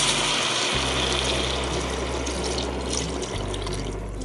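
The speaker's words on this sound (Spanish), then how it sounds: "A continuación vamos a cubrir el pollo con agua." Water pours into a pot over chicken pieces for a homemade chicken and vegetable rice, a steady gushing flow that shifts pitch slightly as the pot fills, alone without talk.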